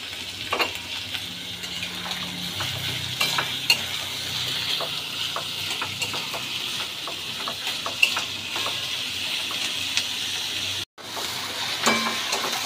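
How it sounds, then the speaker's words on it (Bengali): Onion being lightly fried and stirred in a pan: a steady oily sizzle runs throughout with repeated spatula scrapes and taps, close and even, broken by a brief silent gap near the end. "পেঁয়াজটাকে হালকা করে একটু ভেজে নেবো।"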